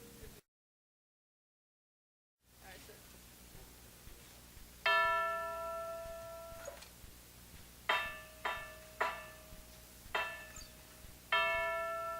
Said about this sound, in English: So those are our chimes.